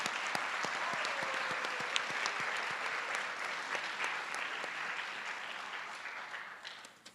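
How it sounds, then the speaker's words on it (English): Sustained applause from a school board meeting audience honoring doubles tennis champions, a dense, steady wash of clapping that holds evenly and then tapers off near the end. "So big round of applause."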